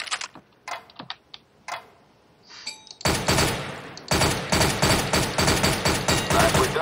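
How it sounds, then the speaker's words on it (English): Gunfire in short controlled bursts in the video game CS:GO. Sparse separate shots come first, then loud rapid, tightly spaced volleys continue to the end. "Aim at the target and shoot in short, controlled bursts."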